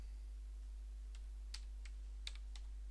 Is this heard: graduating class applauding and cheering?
no